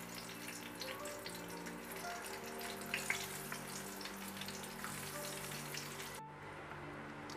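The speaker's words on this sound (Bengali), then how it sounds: "এবার ডিমগুলোকে আমি একটু লালচে করে ভেজে নেব।" Eggs browning in oil in a pan over low heat sizzle softly and continuously with a faint background hum, then cut off abruptly near the end.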